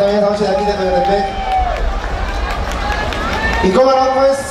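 A crowd applauds at a nighttime sonidero dance event, a dense wash of clapping blended under loud amplified music and a voice on the PA.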